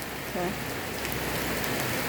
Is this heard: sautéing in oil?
no